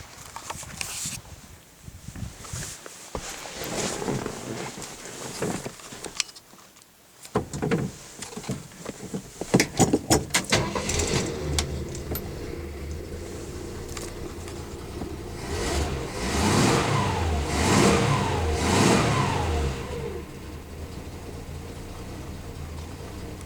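A 1967 Ford Custom engine with a new cam cranks, catches and settles into a steady idle around 750 RPM with some mechanical clatter, close by and without voices.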